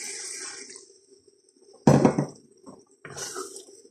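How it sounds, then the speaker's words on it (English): Beef stock poured into a steak mince curry in a pot, a loud splashing pour lasting about half a second, followed by a few softer liquid sounds and stirring noises, with no talk. "at this point, we're going to add the rest of that beef stock"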